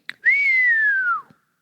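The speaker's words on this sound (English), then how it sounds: "And he whistles." A man whistles on a recorded phone call, one long sustained tone that slowly glides downward, clear and isolated, with a faint click just before and after.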